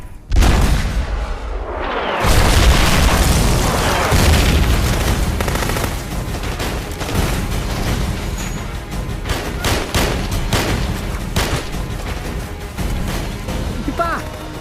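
Heavy gunfire in a war film about the Hmong, with a loud opening boom followed by sustained bursts of rifle and machine-gun shots and crashes, while voices shout underneath.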